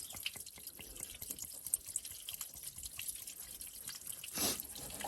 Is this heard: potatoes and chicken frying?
no